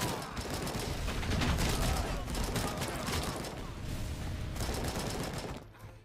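AK rifle gunfire in RoboCop Rogue City, dense rapid bursts and game combat noise running almost continuously at fairly steady loudness.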